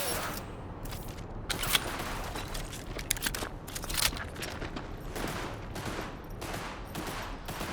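Rapid bursts of rifle fire in Cyberpunk 2077 near an old TV station, shots cracking out in quick, uneven volleys that fill the whole stretch at a loud, close level.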